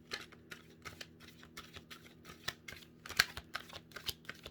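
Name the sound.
shuffling tarot cards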